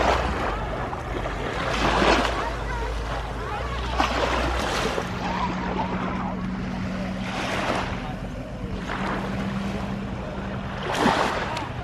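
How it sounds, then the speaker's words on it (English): Waves rolling onto the white-sand beach at Cedar Key, Florida, with several breaking swells surging and fading over a steady wind-buffeted wash and a low engine-like hum underneath. "Well, I made it to the beach."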